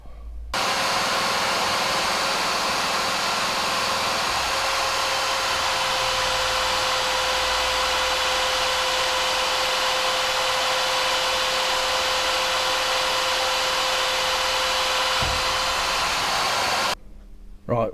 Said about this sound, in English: So what I need to do now is basically drill holes along here